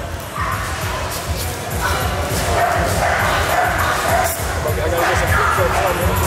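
American Bully dogs barking and yipping at a crowded dog show, repeated barks mixed with crowd noise and people talking nearby.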